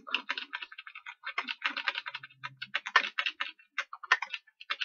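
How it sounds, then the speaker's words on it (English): Typing on a computer keyboard, crisp close key taps in quick irregular runs with short gaps, heard alone and fairly quiet. "I have to insert more content, you just type it up"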